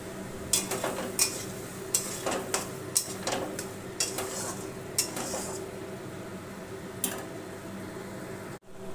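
A spoon stirs prawns in curd with salt and a little sugar in a pan, no water added: repeated close clinks and scrapes against the pan in an uneven rhythm, over a low steady kitchen background, with no talking.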